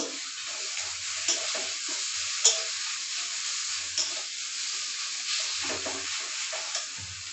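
Onions frying steadily in a pan for a dal dish, a soft continuous sizzle with occasional stirring clicks and scrapes, fairly close and even in level throughout.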